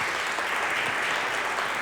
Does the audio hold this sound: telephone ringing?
no